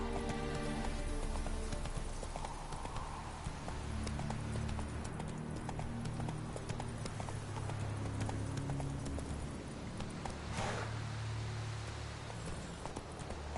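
Roach, a horse in The Witcher 3: Wild Hunt, trots with steady, close hoof clip-clop that continues for the whole stretch over a low ambient bed.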